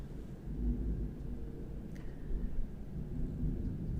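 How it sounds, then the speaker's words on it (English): Thunder rolling during a storm, a low, soft rumble that swells and fades in the distance and stays faint throughout. "There's a lot of thunder right now, so if you hear something, that's what you're hearing."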